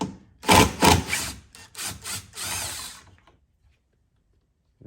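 A 10mm socket wrench removes nuts on a BMW tail light, with several close, harsh ratcheting bursts in quick succession that fade into silence.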